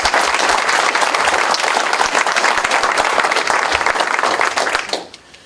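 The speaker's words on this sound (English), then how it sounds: "let's give another round of applause for our..." A hall audience at a panel on voting rights breaks into loud, sustained applause, many hands clapping close and full, cutting off abruptly near the end.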